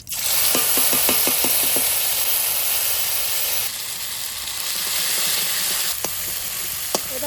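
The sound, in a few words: tempering spices (bay leaf, dried chili, cumin) sizzling in oil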